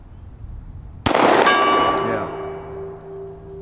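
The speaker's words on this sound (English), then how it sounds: "How about a round on the gong?" A pistol round strikes a steel gong on an outdoor shooting range, giving one sharp loud clang with a bright ringing tail that fades slowly, followed by a second fainter ping; a voice speaks briefly.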